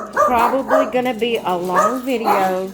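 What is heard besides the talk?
dogs barking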